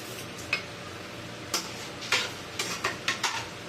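Carrot halwa being stirred in a pan with added sugar, a spoon scraping and tapping the pan in a run of short, fairly close strokes, with a light sizzle underneath.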